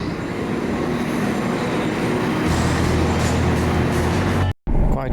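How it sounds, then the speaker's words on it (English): A train running on rails, a steady loud rumbling roar with rolling wheel noise heard from on board, deepening partway through, then cut by a brief dropout before resuming. "Quite an easy run on the train"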